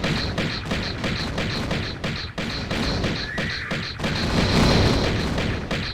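Explosion from a centaur enemy in the Tomb Raider video game, heard as dense, sustained booming and thudding blasts, loud and continuous, with repeated rhythmic impacts layered over a heavy low rumble.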